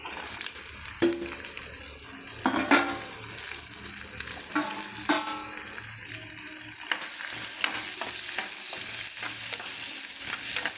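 Onion and green chili sizzle steadily in a hot pan close by, with occasional scraping stirs breaking through the frying hiss.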